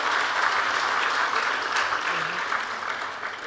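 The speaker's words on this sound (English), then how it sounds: "Let us have a big round of applause for our eminent speaker." Steady applause from an audience at a talk or seminar, continuous broadband clapping that stays fairly even in level for the whole stretch with no voices over it.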